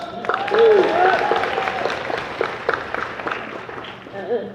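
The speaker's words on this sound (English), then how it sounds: "Give a round of applause." A crowd claps and cheers in a brief burst of applause, with a few voices calling out over the clapping.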